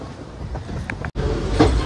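A train rumbles past at close range, a steady low roar with a brief cutoff midway, then the rolling noise resumes loudly.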